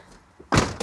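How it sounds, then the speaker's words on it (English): Sliding side door of a Westfalia camper van, a MAN TGE or Fiat Ducato based model, pulled shut in one loud, close thud after a brief faint rattle. "And if I close the door"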